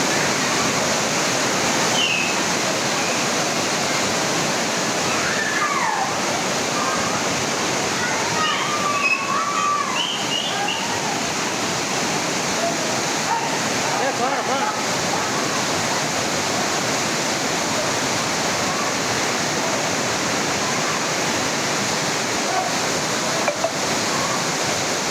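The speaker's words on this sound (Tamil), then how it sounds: "அருவிகளில் தண்ணீர் ஆர்ப்பரித்து கொட்டியது" Flash-flood water roars down the Panchalinga waterfall after heavy rain near a temple, a loud, steady, broadband rush that fills the whole stretch with no letup and only faint calls poking through.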